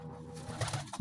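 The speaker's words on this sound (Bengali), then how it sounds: "দেখুন এইসব পায়রাগুলো আছে।" Pigeons in a tournament loft give a soft, brief coo up close, a low murmuring call lasting about a second.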